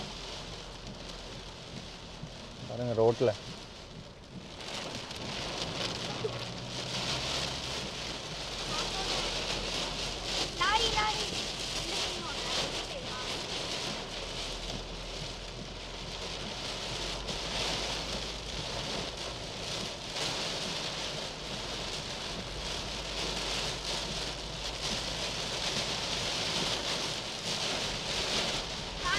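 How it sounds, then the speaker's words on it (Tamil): Heavy rain pours on a car during a cyclonic downpour on the road near Mudumalai, a dense continuous hiss drumming steadily throughout while people speak inside the car. "மழை நிற்கிற மாதிரி தெரில"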